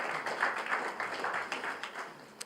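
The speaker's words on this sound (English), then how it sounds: "A round of applause for Nwabisa and her team." Applause from an audience at a pitching event, a short burst of moderately loud scattered clapping with distinct individual claps, lasting a couple of seconds.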